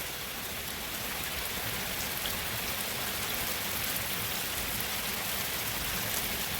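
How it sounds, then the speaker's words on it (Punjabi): Steady heavy rain pours down in a dense, even hiss, unbroken and constant throughout, with no voices. "ਇਹ ਮੀਂਹ ਦੇਖੋ ਕੁਦਰਤ ਦੇ ਨਜ਼ਾਰੇ"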